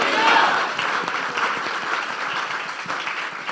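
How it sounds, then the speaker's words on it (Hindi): A church congregation at a sermon in Dubai claps loudly and continuously for a few seconds, a dense wash of hands with a brief voice faintly mixed in near the start. "मैं चाहता हूं ऐसे खुदा के लिए हम जोरदार तालियां बजाएं।"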